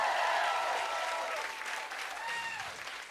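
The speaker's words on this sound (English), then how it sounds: "Keep that applause going for Caroline Blake" A crowd at a stand-up comedy show claps continuously in a dense, steady wash of applause that fades slightly toward the end.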